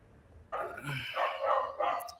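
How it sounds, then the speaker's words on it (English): A dog barks a few times at a moderate distance, short bursts with brief gaps, no talking over it. "I'm hearing dogs in this neighborhood."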